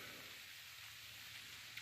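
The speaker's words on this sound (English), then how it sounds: "it's pouring down rain, everything's slippery" Heavy rain pours steadily outside a cave at Salt Fork State Park, a soft, even hiss with no breaks and no voices.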